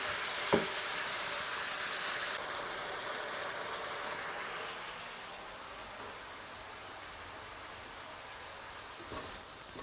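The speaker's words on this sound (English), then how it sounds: "So the chicken's going nice and golden brown on one side." Chicken frying golden brown in a pan with a lemon, lime and coconut sauce, a steady close sizzle hissing throughout, with a couple of faint clinks.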